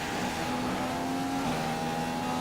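Race car engine in an F1 video game at the Chinese GP, a steady droning whine rising slightly in pitch as it accelerates, loud and continuous with no talk.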